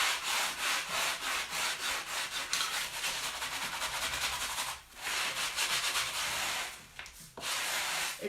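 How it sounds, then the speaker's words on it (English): Hand sanding with a normal sanding block: close, steady back-and-forth rubbing strokes in a quick rhythm, with two brief pauses partway through. "So I'm just using the normal sanding block."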